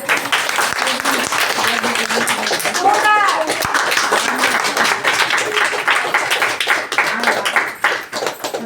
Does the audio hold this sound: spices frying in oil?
no